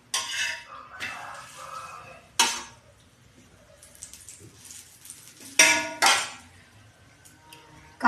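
A metal spatula scrapes and taps on a dosa griddle while ragi adai is flipped, with several sharp clanks and scrapes in bursts separated by quieter gaps, close up and with no talking.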